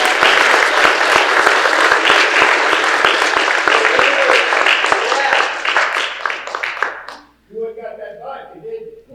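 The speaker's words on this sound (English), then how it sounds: "I hope we can all give him a big round of applause." An audience at a county historical society quarterly meeting gives a long, loud round of applause that fades out, after which a person begins speaking.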